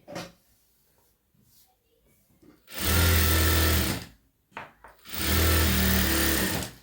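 Sewing machine stitching the lining of a boat neck blouse runs in two loud, steady bursts of about a second and a half each, separated by quiet handling noises.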